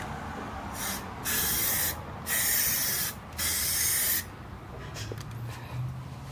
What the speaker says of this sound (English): Now we're going to put down a Rust-Oleum white gloss.